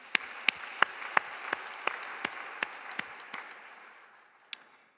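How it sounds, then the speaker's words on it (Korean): A church congregation claps during a 2021 year-end Sunday youth worship service, a fairly faint spread of about a dozen separate claps, one every third of a second or so, thinning out with a late single clap. "우리 주님 앞에 영광의 박수 올려드립니다."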